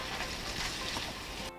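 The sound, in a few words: food frying in a pan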